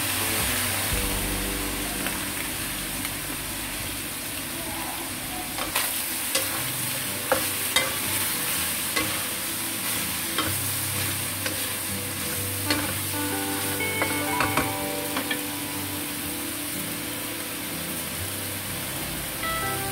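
Cabbage stir-fries in a hot pan with a loud, continuous sizzle and hiss, broken by scattered scraping and tossing clicks of a utensil against the pan, close and sustained throughout.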